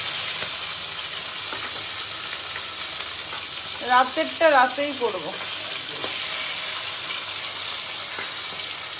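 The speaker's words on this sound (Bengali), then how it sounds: "মাছটা ভাজা হোক।" Tilapia fish frying in oil in a pan on a home gas stove gives a steady, close sizzling hiss throughout, with a brief stretch of talking partway through.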